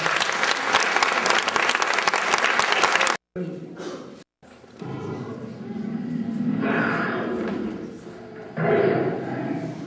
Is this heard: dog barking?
no